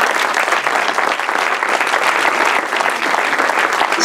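Festival audience in Montréal applauding steadily, a dense, loud wash of clapping that stays even throughout without pause.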